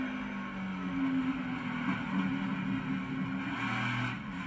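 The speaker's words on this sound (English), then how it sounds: "listen to the throttle of the 12 as the 3 is trying to get by him" A NASCAR stock car engine at Martinsville holds a steady, droning throttle note, broadcast-style and slightly distant, with no talk over it.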